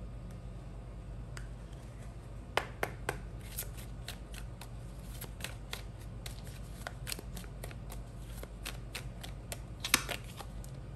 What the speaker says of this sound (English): You saw me shuffle the deck.